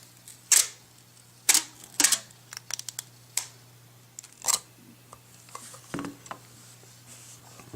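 Packaging for a 2010 sixth-generation Apple iPod nano, 8 GB model, being opened, with a tab pulled off: a string of sharp, close paper-and-plastic snaps, ticks and rustles at irregular intervals over a faint steady hum, with no talking.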